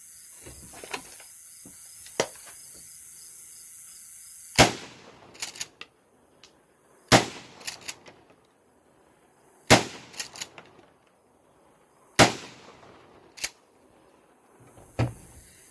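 A 12-gauge shotgun fires Remington 2 3/4-inch 00 buckshot at a 150-yard range: five loud, sharp blasts spaced a few seconds apart, each trailed by brief fainter cracks and echoes.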